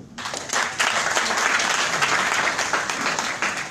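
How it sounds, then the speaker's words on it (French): An audience at the launch ceremony for the Infinix Zero 4 smartphone breaks into applause. The clapping swells quickly after a brief quiet start, then holds as a steady, crowded patter. "Ça s'applaudit un peu"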